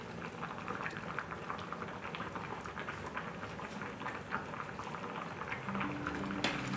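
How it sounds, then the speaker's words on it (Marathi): Biryani rice boils in a pot of water with a dense, continuous bubbling and pattering. It sounds close and fairly quiet, with no talking. "हे बघा, आपले बिर्याणी तांदूळ शिजलेले आहेत"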